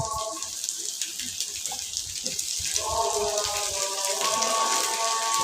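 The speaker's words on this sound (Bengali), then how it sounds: "তারপরে যে বেগুনটাও একটু ভেজে নিব এটার সঙ্গে।" Onion and eggplant fry together in a pan with a steady crackling sizzle. A voice is faintly heard now and then over the frying.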